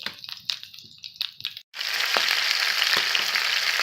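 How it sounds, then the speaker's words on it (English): Chopped gizzard, heart and liver frying on a Volgelzang box stove: a few scattered clinks and scrapes, a brief hush, then a steady, close, loud sizzle peppered with sharp pops. "Oh, it's a popping. That's the heart, liver, chopped up gizzard"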